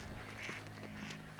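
Ducks being scared off along a bay shore quack faintly in the distance, with a few scattered calls over steady outdoor background noise.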